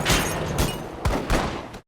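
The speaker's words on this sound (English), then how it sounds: "More enemy soldiers appeared and opened fire." Enemy soldiers in a war film scene open fire, with several loud close gunshots in rapid succession over about two seconds.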